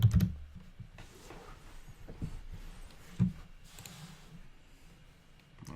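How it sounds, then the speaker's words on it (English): Typing a search into a computer keyboard on Amazon: faint, scattered keystrokes spread across several seconds over a low background hum, with one or two slightly sharper taps. "Okay, so if we type in foot pads,"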